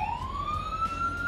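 Brief fire truck siren, a single steadily rising wail heard alone at moderate volume over low background rumble.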